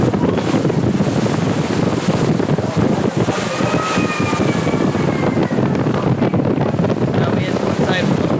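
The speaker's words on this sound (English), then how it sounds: "It was so windy, really wet." Strong wind buffets the microphone in a steady roar aboard a moving boat, with water rushing and splashing below.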